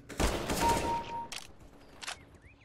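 Sawn-off shotgun blasts in Counter-Strike: Global Offensive, a loud burst of shots near the start followed by a couple of fainter reports, with a brief tone and small in-game sounds around them.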